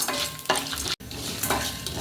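Oil sizzles and crackles steadily as dried red chillies, chana dal and urad dal fry in a pan, with a couple of stirring scrapes and a brief gap in the middle.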